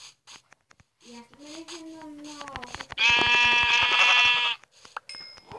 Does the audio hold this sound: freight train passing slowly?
no